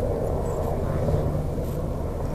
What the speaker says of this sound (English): You just witnessed an army helicopter.